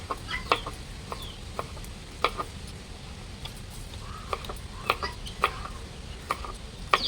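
A black chicken clucks in short, scattered bursts, fairly faint over a low, rumbling background hiss.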